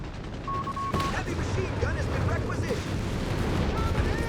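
A Sherman and a Panzer III trade tank cannon fire in a Company of Heroes 3 battle, with one heavy boom standing out early amid a constant roar of combat noise.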